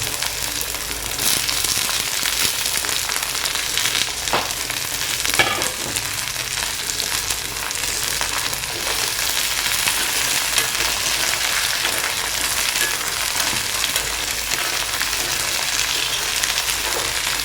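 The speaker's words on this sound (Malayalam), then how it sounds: "എണ്ണ ചൂടായി വന്നിട്ടുണ്ട് അതിലേക്ക് നമുക്ക് മുറിച്ച് വെച്ചിരിക്കുന്ന പയർ ഇട്ട് കൊടുക്കാം" Cut beans frying in hot oil, a steady broadband sizzle with crackling throughout, close and fairly loud, with a few brief clinks of stirring and no talk.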